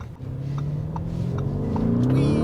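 A Lamborghini Urus S SUV accelerating hard at full throttle in a straight line, its engine roaring loudly and rising steadily in pitch as it builds speed, heard close with no voices.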